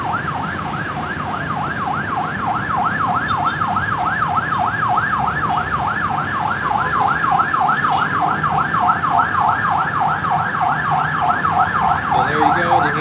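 A fast, warbling ambulance siren cycles continuously through traffic in the Philippines, loud and near, with engines and motor scooters rumbling underneath.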